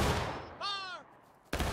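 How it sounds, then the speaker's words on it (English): Musket volley from a line of soldiers in the Civil War game War of Rights, a sharp burst of gunfire that rises suddenly above ongoing voices and background noise. "Take aim, Wisconsin, over there by the smoke. Head height. Fire."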